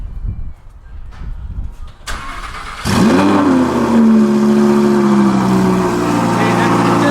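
An Audi R8 V10 Plus engine cranks and fires up close with a loud exhaust bark from a new exhaust, then settles into a deep, rumbling high idle.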